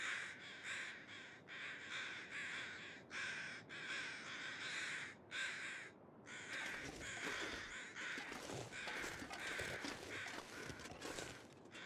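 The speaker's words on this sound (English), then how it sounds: "I hear birds." Crows caw over and over outdoors in an almost continuous run of harsh calls, with short gaps between them and steady background noise underneath, heard at a moderate distance.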